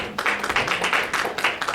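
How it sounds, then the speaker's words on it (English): Audience applause at a school library talk in Lithuania: a dense, steady wash of many hands clapping, swelling slightly in waves, with no voices over it. "to have applause even before I've started"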